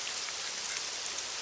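Steady rain falls in a Nancy Drew video game, a constant soft hiss of drops with faint patters, even and unbroken with no voices.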